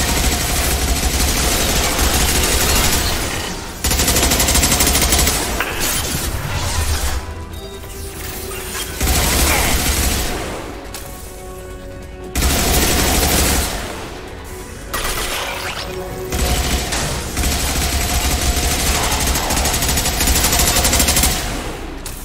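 A hacked turret in the video game Mass Effect 2 sprays long, loud bursts of automatic fire with brief gaps between volleys, set against dense battle noise and no talking.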